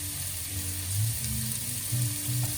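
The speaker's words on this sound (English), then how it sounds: "So while that's sort of like gently cooking there, Junior, what else goes into this one?" Sri Lankan curry sizzles gently in a pan, a steady close frying hiss with occasional soft stirring scrapes and low bubbling, no talking.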